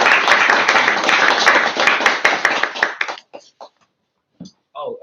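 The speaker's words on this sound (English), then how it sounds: "I'm clapping" Close clapping after a talk: a few people clap rapidly for about three seconds, then it trails off into scattered claps, with voices speaking briefly near the end.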